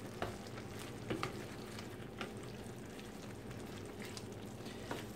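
Red, yellow, green and orange bell peppers sizzle steadily in a pan while being stirred for chana masala, a soft continuous frying hiss broken by a few light scraping clicks, no voices.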